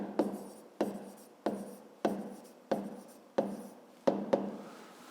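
Pen on paper during a fifth-grade math exercise: a series of short, sharp scratching strokes, about eight in steady rhythm, each starting with a tap and fading, close and alone.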